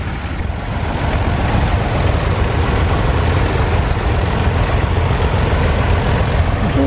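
A tractor idling at a ploughing match at Sutton Scotney gives a continuous low, rumbling engine drone, fairly close and even in level, with no other sounds breaking through.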